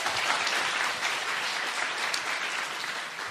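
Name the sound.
audience applause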